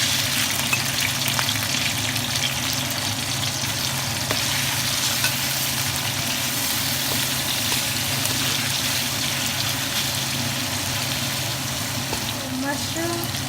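Marinated shrimp fry with golden-browned garlic, a steady, close, loud sizzle holding throughout with faint stirring, while a low hum runs underneath.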